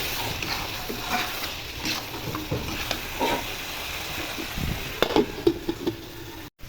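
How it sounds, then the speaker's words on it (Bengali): Chicken in a pan with cinnamon and cardamom paste being stirred: a steady close sizzle with scraping and knocking from the spoon, occasional louder clacks near the end. "এই অবস্থাতে দারচিনি আর ছোটো এলাচের বাটা দিয়ে দিব। দিয়ে ভালো করে নেড়ে চেড়ে ঢেকে রাখবো।"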